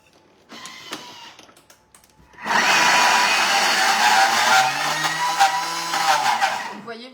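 A Thermomix blends a Bueno-style chocolate hazelnut spread. After a quieter start with a few ticks and clicks, a loud, steady whirring motor roar cuts in and runs for several seconds, then eases off near the end.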